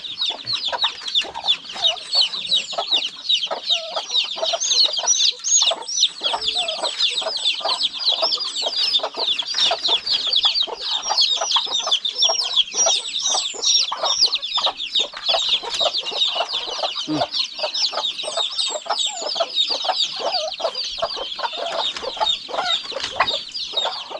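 A flock of chickens clucks and chatters continuously, many birds close together with busy, overlapping calls and no speech.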